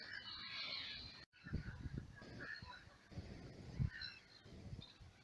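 Geese and other waterfowl honk and call on a windy marsh, several faint calls scattered across a quiet outdoor scene with light wind noise.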